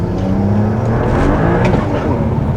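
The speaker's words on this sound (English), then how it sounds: "just do a little second gear roll on and see if it feels any different" A tuned BMW E92 335i running an E85 fuel mix pulls hard in a second-gear roll-on, its loud engine note rising steadily under full boost, heard from close by without talk.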